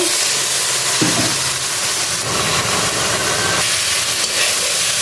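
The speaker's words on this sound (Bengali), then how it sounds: "লবণ জল দিয়ে কষিয়ে নিব" Spices, salt and a splash of water sizzle and hiss loudly in a hot pan for a boal fish curry with potatoes and flat beans, with a constant steamy crackle and faint stirring scrapes.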